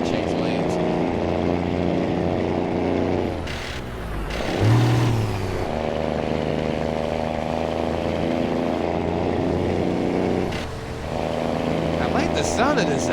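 A Kenworth T2000 truck engine in American Truck Simulator, a steady low diesel drone running throughout, with a brief dip and shift partway through.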